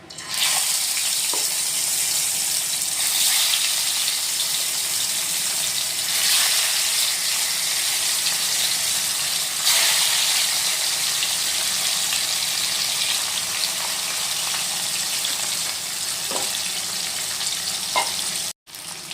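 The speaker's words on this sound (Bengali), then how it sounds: "তো তেল গরম হয়ে গেছে, এখন মাছগুলো আমরা ভেজে নেব।" Shol fish frying in hot mustard oil, a loud, continuous hissing sizzle with occasional crackles, close up, ending in a brief pause.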